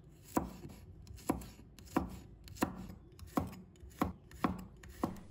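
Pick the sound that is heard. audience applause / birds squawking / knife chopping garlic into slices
knife chopping garlic into slices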